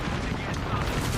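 Dense, continuous gunfire roars through a short stretch of a video game match, loud and unbroken from start to finish like a sustained firefight.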